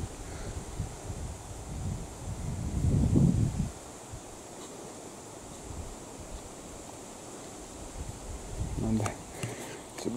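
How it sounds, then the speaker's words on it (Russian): Strong wind buffets the microphone outdoors in a broad, steady rush, with louder gusts swelling near the start and again toward the end. No voices are heard. "Ветер сильноватый."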